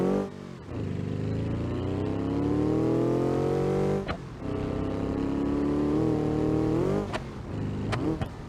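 A modified car in BeamNG.drive revs hard and drifts, its engine note climbing and sustained for several seconds, dipping briefly around two short lift-offs before surging again, loud and close with no talk.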